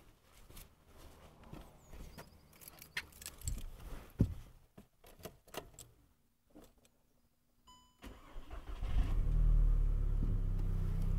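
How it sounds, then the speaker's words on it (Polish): A car engine cranks and catches near the end, settling into a loud, steady idle after a stretch of clicks, key jangles and handling noises. "Dobra, palimy maszynę."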